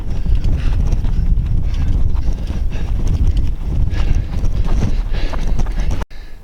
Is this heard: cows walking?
yes